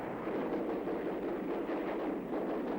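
Rapid aircraft cannon fire from a Vietnam War airstrike, a dense, continuous roaring burst of gunfire with no pauses, loud and steady throughout.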